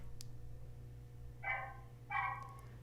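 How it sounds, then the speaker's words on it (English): A pet dog barks twice, a short pair of moderately loud barks picked up indoors by a Nooie Cam 360 WiFi security camera over a steady low electrical hum. "it detected my dog barking"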